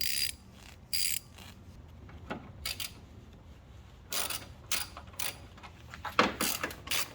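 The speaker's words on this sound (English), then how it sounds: "now we get our size 10 socket, lefty loosey" A socket ratchet wrench turns to loosen a bolt on the headlight assembly of a 2008–2012 Chevy Malibu, giving several short bursts of quick clicking separated by pauses, fairly close and moderately loud.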